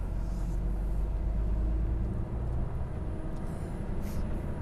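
An HGV truck drives along, its heavy diesel engine giving a steady low rumble throughout with road noise, close and continuous, no talking.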